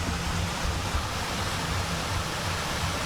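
Waterfall in a forest zone of a park, a steady broadband rush of falling water filling the scene continuously at moderate loudness, with no voices.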